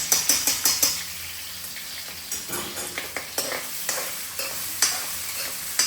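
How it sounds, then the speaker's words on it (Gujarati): Potatoes sizzle in hot oil in a pan for sabudana khichdi, a steady frying hiss broken by several sharp clinks and scrapes of a spoon stirring against the pan, close and alone. "બટેકા એકદમ સરસ તેલમાં સસડી ગયા છે"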